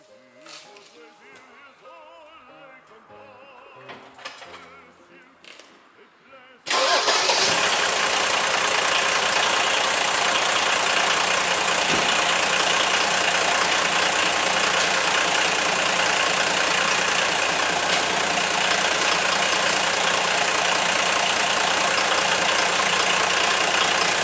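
A car engine running on pure diesel instead of oil, during an engine flush, cranks and catches, then settles into a loud, steady idle that runs on without a break.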